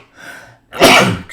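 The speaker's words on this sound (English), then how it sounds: "these videos make me sneeze" A single loud human sneeze, preceded by a short sharp intake of breath, close and alone with no talking.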